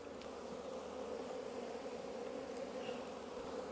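Honey bees buzz steadily around a hive box fitted with comb honey frames, a dense, continuous drone filling the air at close range with no talking.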